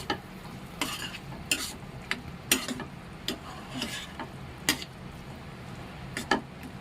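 Peanut bhajiya curry is stirred in a pan, a spoon scraping in a dozen or so quick, separate strokes over a soft background sizzle, close and fairly quiet.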